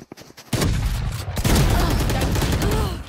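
Rapid gunfire from a Valorant match crackles in a dense, loud burst of shots lasting a few seconds, close and continuous, with a player's voice faintly under it.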